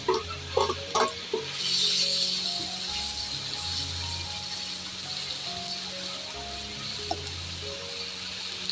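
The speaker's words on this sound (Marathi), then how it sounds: "गॅसवर आता खोबरं टाकून घेणार आहे" Grated coconut fries in a pan on a stove, making a soft, hissing sizzle with some louder clatter and scraping at the start, then a low, steady crackle.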